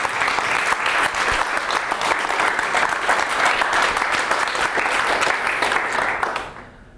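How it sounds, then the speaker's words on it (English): Sustained audience applause at the closing session of CiviCon London 2015, a dense, steady roar of many hands clapping for about six seconds, nearby and loud, then quickly dying away. "let's give them all a round of applause."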